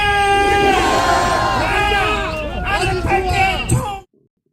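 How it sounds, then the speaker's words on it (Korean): Supporters of President Yoon massed outside the presidential residence in Seoul raise loud, sustained cheers and whoops amid dense crowd babble, with rising chant-like shouts, before the sound cuts off abruptly. "윤 대통령 지지자들이 이 시간에 이제 관저 앞에 나와가지고 환호를 하는 모습이고요"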